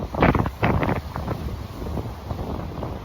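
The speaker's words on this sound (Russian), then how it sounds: "очень ветрено, не знаю, если вы что-то услышите" Gusty lakeside wind at Lake George buffets the microphone in loud low rumbling bursts, strongest early and easing into a steadier rough roar.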